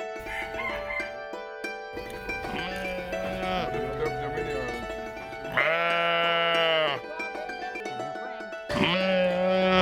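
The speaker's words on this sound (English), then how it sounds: "These are an English breed of sheep called Leicester Long Wools." Leicester Longwool sheep, an English breed, bleating loudly and repeatedly at close range in an outdoor setting, with long wavering calls and other animal noises between them.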